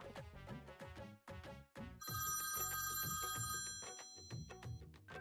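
A telephone bell rings loudly in a domestic TV drama scene, a steady tonal ring sounding over background music, with no talk.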